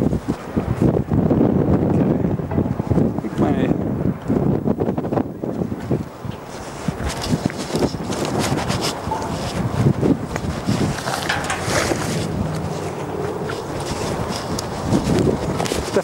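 Strong gusting wind buffets the microphone in loud, continuous rumbling bursts, with no pauses throughout.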